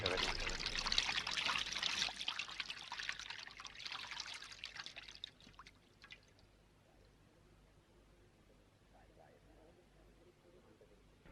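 Water is poured over feet being washed at an Easter passion play in Pallipatti, Dharmapuri. A hissing, splashing stream runs loud for about five seconds, then thins to faint trickles and drips against a quiet background.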